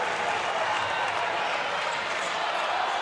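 A basketball crowd roars in Walsh Gymnasium during a Saint Joseph's versus Seton Hall NIT first-round game, a dense, sustained wash of cheering that stays loud from start to finish.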